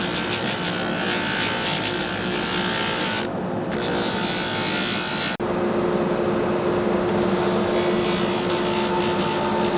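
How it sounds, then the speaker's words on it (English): Red Wing Iron Ranger boot soles are pressed against a running sanding belt. A steady, harsh grinding rasp goes on throughout, with a couple of brief dips where the sole is shifted on the belt. "Now we're just going to put them on the sanding belt."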